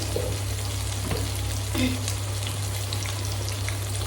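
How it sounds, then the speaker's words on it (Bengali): Fish frying in hot oil in a home kitchen, a steady soft crackling sizzle with faint pops and light clinks, continuous and moderately quiet with a low background hum. "তো মাছটা ভাজা হতে থাক"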